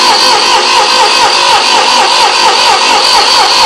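A 1972 Ford 2000 tractor engine cranking over on four-year-old stale fuel, a loud, steady, rhythmic churning of the starter turning the engine without it firing, heard close and alone.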